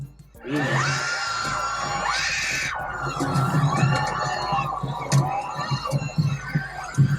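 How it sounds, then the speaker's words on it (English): A protest crowd in Los Angeles screams and yells as a U-Haul truck drives into it; shrill, overlapping shrieks and shouts rise suddenly and stay loud, with agitated voices surging and breaking out repeatedly. "A protest turned chaotic when a U-Haul truck drove into the crowd."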